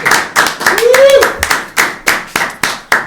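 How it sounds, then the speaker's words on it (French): A studio audience claps in a TV talk show as a guest is welcomed, producing sharp, irregular bursts of hand claps with a brief rising vocal whoop in the middle, loud and close. "On applaudit tout de suite Monsieur Claude Pelé"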